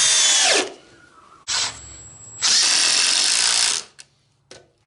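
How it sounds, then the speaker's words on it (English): A power drill and an impact driver drive a number 14 screw with a T30 Torx bit in turn, giving loud, steady whirring bursts with short pauses, then a couple of brief trailing blips. "I'm going to run the drill and the impact side by side on this."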